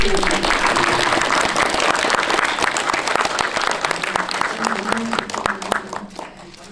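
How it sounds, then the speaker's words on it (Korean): A theater audience at a special film screening and guest-visit event claps together for an actress's upcoming birthday, a crisp, dense round of applause that holds steady and then thins toward the end. "저희가 오늘 극장에서 한번 다 같이 박수를 한번 드리고"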